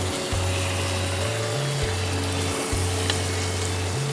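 Garlic and ginger paste stirred as it fries in a pan while cooking shahi murg, a steady hiss and sizzle that stays constant throughout, beneath background music with stepping low tones.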